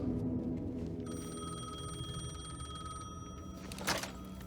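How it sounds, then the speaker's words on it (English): A payphone rings in the video game Alan Wake II, a steady electronic bell tone sounding over a low ambient background with a brief rustle near the end and no talk. "The payphone was ringing."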